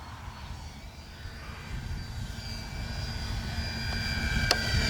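An E-flite Beechcraft D-18 RC model airplane passing slowly and low, a steady engine drone that grows gradually louder as it approaches, with a faint whine over outdoor background noise.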